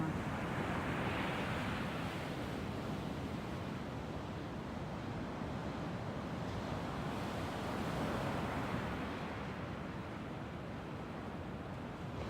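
Pacific Ocean waves at low tide roll and wash steadily against the shore, a continuous broad roar of surf with some wind noise, no talking.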